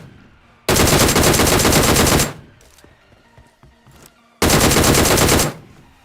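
Two long, loud bursts of rapid automatic gunfire from the video game PUBG Mobile, separated by a quieter gap with scattered clicks and faint in-game noises.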